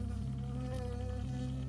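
A bee buzzes in the video game Firewatch, a steady close droning hum that stays loud and continuous with slight wavering in pitch.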